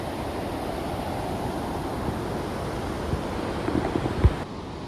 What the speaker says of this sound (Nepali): यो चाहिँ मिर्साली खोला हो मिर्साको खोला मिर्साली खोला